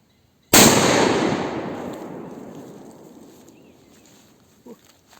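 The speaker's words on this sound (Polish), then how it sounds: "a teraz petardkę Achtung odpalimy sobie na luźno, po prostu, żeby zobaczyć jak ona głośno by szczeliła" A single loud Achtung P1208 Kometa firecracker, an old one, set off in the open from an outstretched hand, cracks sharply and then rings into a long fading rumble, followed by a faint thud.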